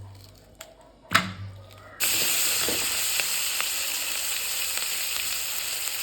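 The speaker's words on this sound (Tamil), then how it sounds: "நல்லா எண்ணெய் ஊற்றி சின்ன உள்ளியை போட்டு வதக்கி வேண்டியலாம்" Small shallots dropped into hot oil for a dried-fish curry, a few quiet knocks and a thud followed by a sudden loud burst of sizzling that holds steady and close for the remaining seconds, without any voices.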